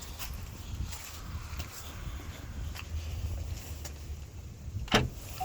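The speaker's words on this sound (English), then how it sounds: "lift gate's automatic" The automatic power liftgate of a 2019 GMC Acadia runs with a low, continuous motor hum and faint mechanical whirring, ending in a sharp latch click near the end.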